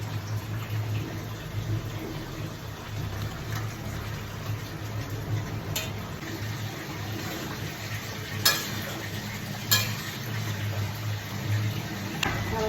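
Shrimp is tossed into a pan with a splash of water and stirred as it cooks, giving a soft steady sizzle with occasional sharp clinks and scrapes of the utensil against the pan.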